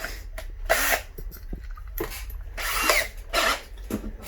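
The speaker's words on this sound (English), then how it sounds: "But now I'm going to have to drill it." Short bursts of a small power drill whirring on and off in several spurts, close by, with brief pauses and clicks between them, drilling a tiny Holley carburetor air bleed.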